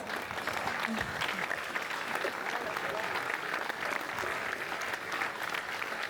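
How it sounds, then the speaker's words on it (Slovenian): Sustained applause from an audience at a music evening in Dornberk, steady dense clapping at a moderate distance throughout, with a faint voice or two briefly audible beneath it. "Suzana zasluži aplavz"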